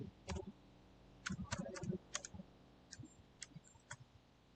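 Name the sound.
typing C code on a computer keyboard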